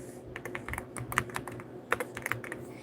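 Rapid key clacks on a computer keyboard come close and clear, tapping in uneven bursts with a few louder strikes and no voice over them.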